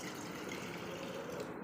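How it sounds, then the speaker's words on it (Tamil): Water being poured into a vessel during a ritual offering to a turmeric Pillaiyar idol, a soft, steady, continuous trickling rush heard faintly and close throughout. "இப்போ அதில் கொஞ்சம் தண்ணி ஊற்றுறாங்க."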